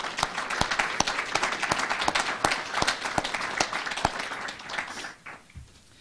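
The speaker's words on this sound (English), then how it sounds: "Let's give them another round of applause." Audience at a university awards ceremony applauding student award winners, a dense, even patter of many hands clapping that fades out near the end.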